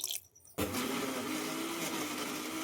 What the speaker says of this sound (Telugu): నానబెట్టుకున్న బొంబాయి రవ్వని మిక్సీ జార్లో వేసుకొని కొంచెం వాటర్ పోసుకొని మిక్సీ పట్టుకోవాలి.